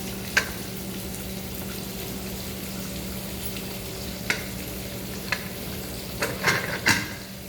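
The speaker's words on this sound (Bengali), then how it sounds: "মাছটা ভেজে দিয়ে দিই" Fish frying in a pan in a home kitchen gives a steady, soft sizzle throughout, with a few faint clinks and taps near the end.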